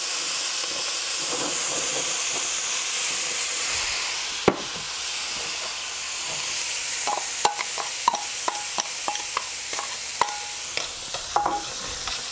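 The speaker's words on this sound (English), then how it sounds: "So I'm gonna deglaze the pan and I'm gonna bring in the peppers." A pan of chicken cacciatore deglazed with Pinot Grigio wine as peppers go in. A loud, steady hiss of steam and sizzling runs throughout, punctuated by sharp scraping and stirring clicks against the pan that grow more frequent toward the end.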